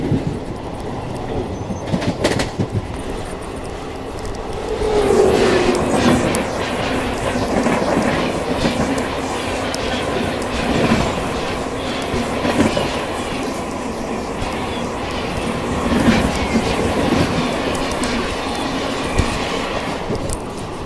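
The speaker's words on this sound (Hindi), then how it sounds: "ये अपनी ट्रेन पहुंच रही है फरा रेलवे स्टेशन" A special train on the Delhi to Prayagraj run rolls at full speed on the rails, nearing a station, with a steady close rumble and repeated clickety-clack of wheels and no voices.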